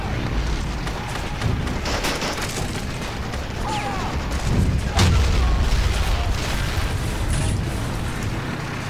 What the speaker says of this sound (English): Don't let him blow you up with that mortar.